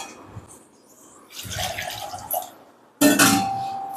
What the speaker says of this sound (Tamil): இப்போ தண்ணி ஆட் பண்ணிக்கலாம்.